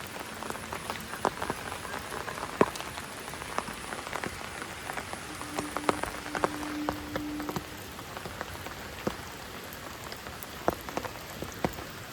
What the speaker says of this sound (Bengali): বৃষ্টি হচ্ছে রাত থেকে